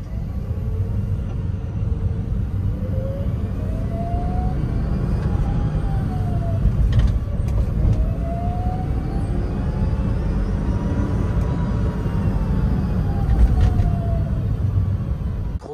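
A Citroën Ami electric car with an 8 hp motor climbs a mountain road, a steady low rumble of motor and road noise running throughout, with rising and falling whine tones over the drone.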